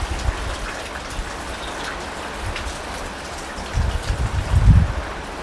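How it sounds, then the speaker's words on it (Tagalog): Heavy rain pours steadily in a strong wind, a dense constant hiss with low rumbling gusts that swell louder near the end. "Lakas ang hangin. Hindi lang ulan, pati hangin malakas din."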